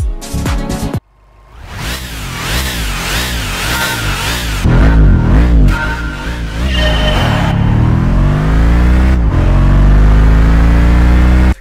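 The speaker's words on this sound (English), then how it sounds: "You remember that old acceleration test?" A car accelerating in a Gran Turismo acceleration test: the engine roars loud and close, rising through repeated gear shifts over about ten seconds, with no voices.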